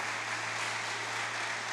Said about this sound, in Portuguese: Pode aplaudir Jesus aí.